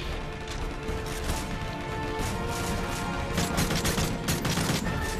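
Dense, continuous gunfire and impacts from the Call of Duty Modern Warfare 3 video game, loud and unbroken as rapid shots and crashes overlap throughout.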